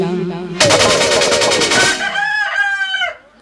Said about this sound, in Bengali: আমার বাড়ির ভেতর ধাড়ি মুরগি আওয়াজ শোনা যাচ্ছে